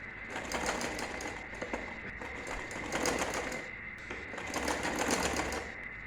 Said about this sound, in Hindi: इसको उठाकर नीचे इसको रख देना है इस तरह से और इधर हमने सिलाई लगा देनी है।